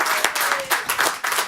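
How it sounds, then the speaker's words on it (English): A crowd applauds with brisk, dense clapping that rises and falls in waves, fairly close and lively. "Let's give Bop Shop Records and all those people a round of applause."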